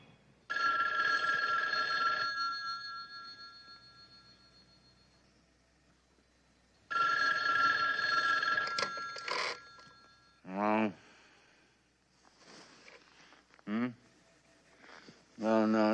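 A telephone bell rings loudly in two long bursts, each about two seconds with a pause between, followed by brief male speech and scattered indoor sounds.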